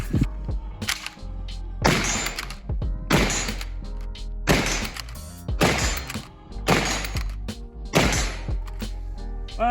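A CZ 600 Trail bolt-action rifle fires a series of about six sharp, loud reports at a steady pace, each one followed by a ringing decay, with mechanical clunks between the shots.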